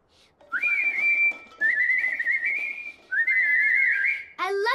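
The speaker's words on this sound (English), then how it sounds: "I love to whistle." A person whistles a tune in three long, wavering phrases, clear and close with no talk over it, followed by a brief rising flourish at the end.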